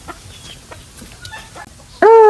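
A chicken lets out a sudden, loud, strained squawk near the end, close and clear after a quiet stretch of faint background noise.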